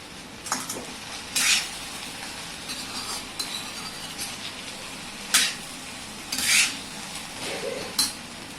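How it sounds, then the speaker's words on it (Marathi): Okra sautéed in an iron kadhai gives a soft steady sizzle, punctuated by intermittent scrapes and clanks of the spatula against the metal pan. "भेंडी टाकून परतून घेऊया भेंडी परतून घेऊया"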